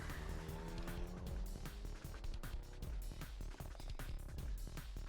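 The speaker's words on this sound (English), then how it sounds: "The taxi lurched into motion, the engine quickly revving up to speed." A taxi's engine revs up as it pulls away in the video game 428: Shibuya Scramble, a loud, continuous motor roar mixed with sharp rhythmic hits throughout.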